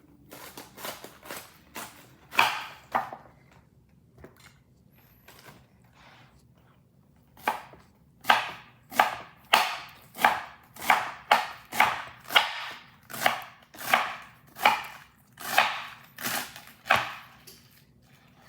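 Cabbage being chopped with a knife on a board for an organic salad, sharp crisp cuts, a few scattered at first, then a steady run of evenly spaced chops, close and clear.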